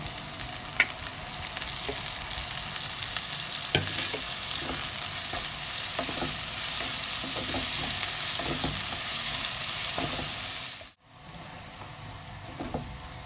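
Onion and capsicum stir-frying in a wok, a steady close sizzle with repeated scraping clinks of a spatula against the metal, running continuously with one brief break near the end and no talk.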